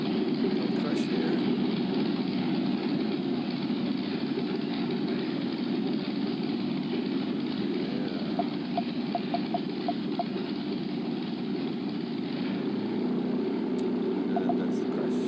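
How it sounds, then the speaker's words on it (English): A V6 engine runs with a steady, continuous drone that holds at an even level for the whole stretch, with no clear revving or gaps. "A V6 engine."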